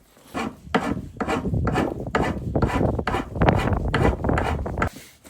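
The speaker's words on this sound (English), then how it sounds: "So I'm just working with the rasp and I'm thinning it out just a little bit." A hand rasp files wood to thin a tool handle, a series of about ten close, rhythmic scraping strokes, each a coarse rasping rub, with no talking.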